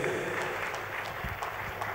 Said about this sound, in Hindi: आप जोरदार तालियों से गोल्ड मेडल जीत के आइए विदेश से